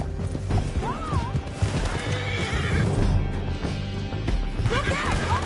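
Horses in a video game neigh and whinny while hooves pound in a fast gallop, with crashing impacts and shouting voices mixed into the busy, loud action.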